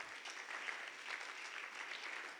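A church congregation applauds, a continuous even wash of clapping from many hands, moderately distant and steady.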